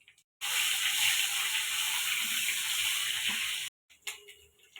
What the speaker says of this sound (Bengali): ওই কড়াতেই আমি গোটা জিরা,